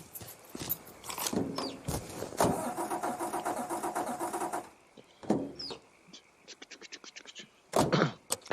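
A car engine starting in the video game Mafia 3: a door thunk and a cranking starter give way to a steady idling rumble, followed by quieter knocks, brief clicks and a final burst of noise.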